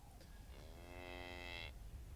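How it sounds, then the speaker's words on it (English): A single drawn-out cow moo from the video game Geneforge 1 Mutagen, fairly quiet and lasting about a second over faint background hum, with no talking. "I hear a cow mooing."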